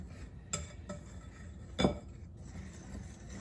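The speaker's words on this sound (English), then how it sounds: "I am going to mix these 3 things together." Pizza dough ingredients with a tablespoon of kosher salt being mixed in a bowl, a few faint clinks of utensil against the bowl, quiet and sparse.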